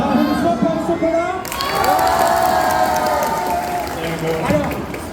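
A cosplay contest crowd at a Le Mans convention erupts in loud cheering, shouting and applause that swells after a brief opening and stays dense and close throughout, with voices mixed into the roar.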